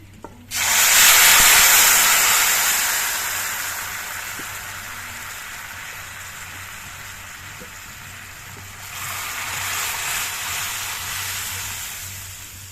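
Lentils dropped into a pan of spices already fried, setting off a loud burst of sizzling frying that settles into a steady hiss and swells again near the end.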